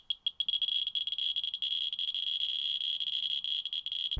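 A Ludlum 2401-P Geiger counter gives a shrill electronic beep, at first in quick broken pulses and then as an almost continuous tone, close and steady, with no voices.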